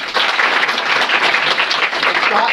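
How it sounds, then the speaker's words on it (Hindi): Students in a classroom clapping for two winning teams at a grammar quiz, a loud, close burst of many hands clapping together at an even, busy pace, with no talk over it. "दोनों के लिए ताली हो जाए।"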